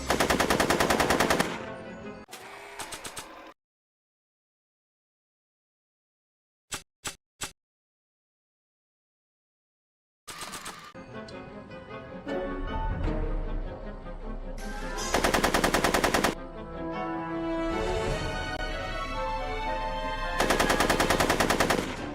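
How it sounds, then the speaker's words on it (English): Gunfire from a shootout in the Back to the Future: The Game video game, with loud bursts of rapid machine-gun-like shots separated by a long silence and a few isolated cracks, over a busy game soundtrack. "Are you shooting at me?"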